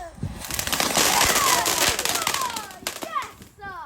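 New Year fireworks burst and crackle close by, a dense loud stretch of popping and fizzing bangs with whistling streaks toward the end, while excited voices talk and shout over it.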